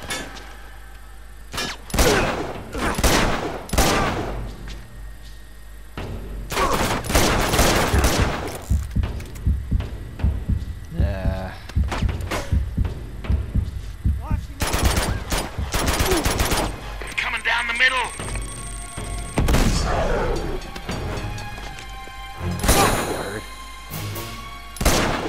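Pistol gunfire in the video game Uncharted 2: Among Thieves (remastered), sharp shots fired in irregular bursts, loud and close, with game effects and someone talking over parts of it.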